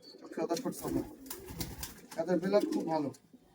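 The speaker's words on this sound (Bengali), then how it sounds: "গিরিবাজ পায়রা" Giribaz pigeons being sold in Murshidabad, West Bengal, coo in soft bursts close by, mixed with people talking over them throughout.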